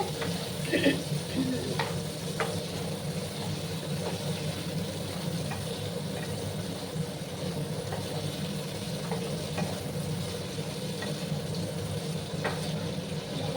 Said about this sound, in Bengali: ভালো করে কিন্তু পটলগুলোকে ভাজতে হবে।